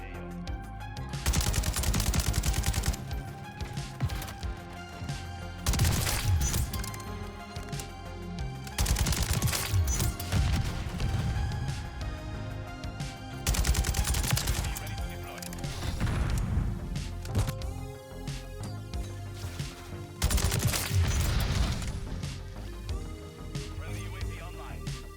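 Kastov 762 AK rifle firing in Modern Warfare III, several loud bursts of rapid automatic gunfire spaced a few seconds apart over game ambience and background music.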